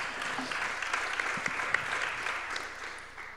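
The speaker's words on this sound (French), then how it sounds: "Je pense qu'on peut l'applaudir." An audience at a French talk on architecture and building applauds, a full round of clapping that holds steady and then thins and fades near the end.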